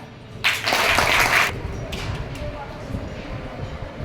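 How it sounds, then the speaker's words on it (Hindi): Schoolchildren at a school celebration for award-winning women break into a brief, bright burst of clapping lasting about a second, then it quickly fades into a murmuring room. "तालियां।"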